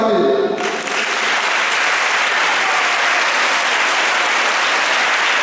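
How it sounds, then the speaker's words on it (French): Children applauding camp counselors at a church gathering, a dense, steady wash of clapping from a large group that swells in after a brief opening and holds loud and even to the end. "Les enfants, est-ce qu'on peut les acclamer?"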